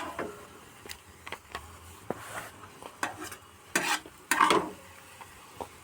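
Maggi noodles are stirred and cooked in a pan, with soft sizzling broken by clinking spoon-on-pan scrapes and taps coming in irregular bursts, close up and fairly quiet.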